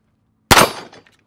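A single handgun shot fires at close range on an outdoor training range, with a sharp loud crack followed by a short decaying echo, no voices.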